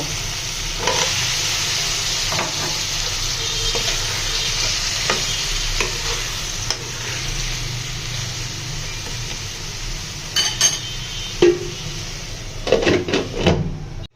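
Potatoes stirred into a sizzling spiced masala in a pan, with a steady frying hiss throughout and intermittent scraping and clinking from the utensil toward the end.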